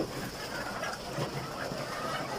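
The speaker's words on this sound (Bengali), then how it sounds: "এই যে আমাদের ডিমের মুরগিগুলো" Egyptian Fayoumi laying hens cluck softly in a steady murmur of a flock, with a faint background hum and no talking.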